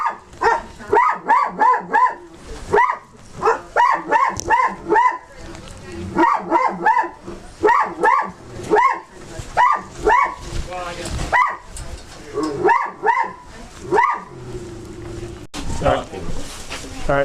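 A dog barks inside a house in a forest, loud, close bursts of repeated woofs in quick clusters with brief pauses, a few whimpers between, and people talking over and around the barking.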